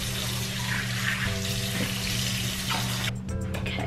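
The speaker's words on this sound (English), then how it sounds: "Okay, I'm gonna finally wash the mask off." Water runs steadily from a bathroom tap while a face mask is rinsed off, a constant close hiss with a brief change in flow near the end and no talking.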